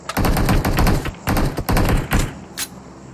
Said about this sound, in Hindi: किसी ने मेरे पे गोली चलाई हुई।